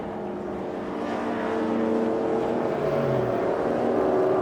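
Classic pre-1966 touring cars such as Mustangs and Minis racing at Silverstone, a fairly distant engine roar building gradually as cars approach, moderate and steady.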